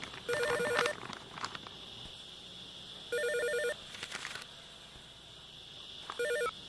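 A telephone rings in three separate bursts of electronic trilling with quiet gaps between them, heard close and clear against a faint background hiss, and no one speaks over it.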